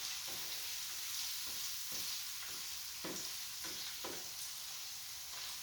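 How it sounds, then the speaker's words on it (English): Sausage fries in grease with basil being folded in, a steady loud sizzle throughout with soft scraping stirs every second or so, close and continuous. "as I'm folding the grease into the sausage"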